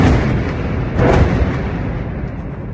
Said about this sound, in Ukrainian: так звучить авіаудар по центру Бахмута.